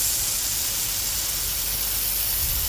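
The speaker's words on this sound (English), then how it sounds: "just so we can get some good video of the spray pattern" A Rain Bird 5500 series rotor sprinkler with a number 8 nozzle throws water about 40 feet, producing a steady, close, loud hiss of spray with no talking.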